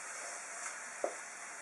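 Frozen champignon mushrooms, pressed dry, sizzle in a frying pan alongside onion and carrot, producing a soft, steady hiss with a single small pop partway through.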